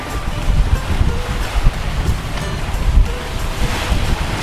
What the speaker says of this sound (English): Pretty nice seeing the waves rolling that way for a change.